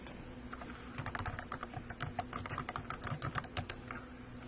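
Quiet, quick keystrokes on a computer keyboard while signing in to Skype, as an irregular run of light clicks and taps close by against a faint background hum, with no talking.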